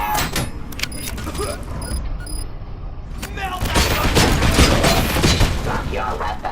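Rapid bursts of gunfire ring out in the video game Robocop Rogue City, loud and dense, with sharp repeated shots and clatter that intensify in the second half, mixed with game voices.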